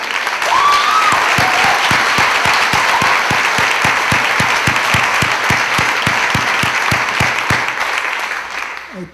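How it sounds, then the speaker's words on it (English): Film festival opening-night audience gives a loud, sustained round of applause, a thick wash of clapping with a few sharp rhythmic claps standing out and a brief cheer near the start, tapering off at the end. "Please give a round of applause to Matt Haywood from the Image Farm."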